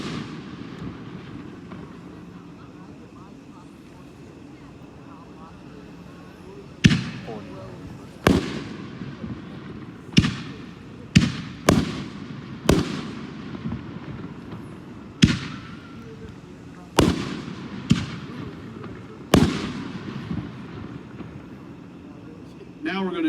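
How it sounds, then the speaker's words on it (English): Apocalypse 60-gram neon effect canister shells burst at a grand public fireworks show in Andover, Kansas: about a dozen sharp, booming reports in an uneven volley, each trailing off, over a steady crowd murmur. "This is a 60-gram neon effect canister shell kit."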